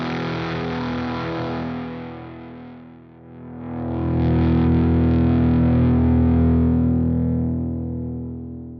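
A distorted electric guitar chord through the Archetype: Plini X amp plugin rings out alone while the pedal level control is swept, dipping briefly quieter before swelling louder and fuller, then slowly sustaining and fading.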